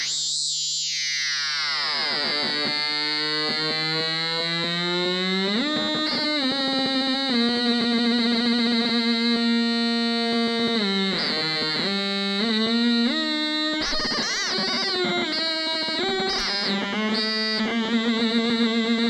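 A buzzy Stylophone Theremin plays sustained tones that swoop, wobble and jump in pitch, making eerie science-fiction noises with no voices.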